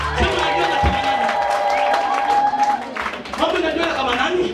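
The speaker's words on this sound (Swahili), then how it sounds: "Hebu piga makofi masaba" A church congregation claps and cheers together, bright hand claps mixed with loud shouting voices and whoops in a lively, echoing hall.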